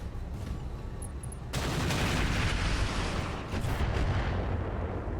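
Mech weapon fire in RogueTech BattleTech aimed at a Hellhound: low rumbling ambience, then a sudden loud roaring salvo of heavy blasts that keeps thundering for several seconds, with a brief dip before another surge.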